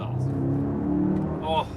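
A 2021 Mercedes-AMG GLS 63 4Matic+ exhaust in its loud powerful mode gives a short, deep rev that rumbles close up and rises sharply near the end.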